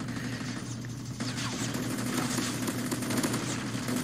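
Dense, continuous gunfire from the video game Call of Duty, rapid overlapping shots with a noisy rattling texture, loud and sustained throughout.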